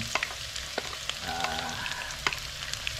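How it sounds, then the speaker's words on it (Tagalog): Onions sauté in hot oil for a Filipino biryani, giving a steady close sizzle with scattered stirring clicks throughout. "At ang una natin gigisahin mga kasindero, itong sibuyas."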